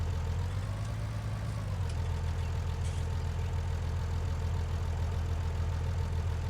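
A farm tractor engine idles in a steady, low rumbling drone that holds constant throughout, fairly close, with no voices.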